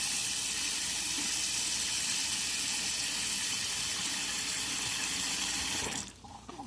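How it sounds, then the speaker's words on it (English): Tap water runs steadily into a container for rinsing during a cleaning job, a close, continuous splashing gush that cuts off near the end. "Fill this up with a little bit of water."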